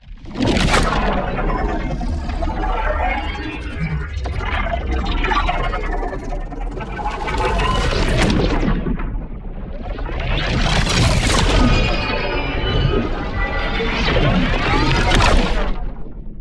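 Layered, heavily processed sci-fi effects built from prop recordings swell and crash in several bursts, with whooshing sweeps and booming impacts rising and falling.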